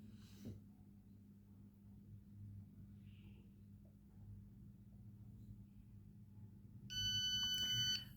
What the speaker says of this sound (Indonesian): maka alarm akan berbunyi selama 30 detik